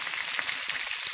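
Pieces of chicken thigh sizzling in oil in a frying pan, a dense, even crackle that stays bright and continuous, close and with no voices.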